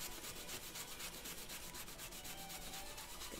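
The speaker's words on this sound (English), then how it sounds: "I'm gonna kind of burnish off some of these edges in here." Leather edges are burnished for costume and leather work, giving a quiet, close, rhythmic rubbing made of quick repeated back-and-forth strokes that continue throughout.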